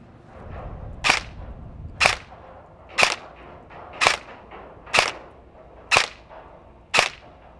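Seven sharp single shots from a Helios Umbrella Corporation M4 airsoft rifle firing 0.2 gram BBs through a chronograph, spaced about a second apart, each a crisp snapping crack heard close up with no talking.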